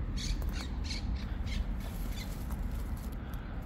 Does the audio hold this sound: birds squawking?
yes